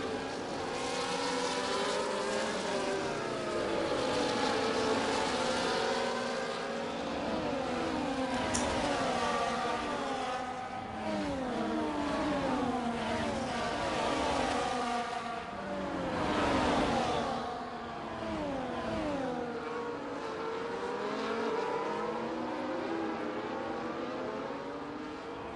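F1 24 race cars at the Canadian Grand Prix, several high-pitched engines whining and shifting as cars pass in overlapping waves, loud and continuous for the whole stretch with no talk.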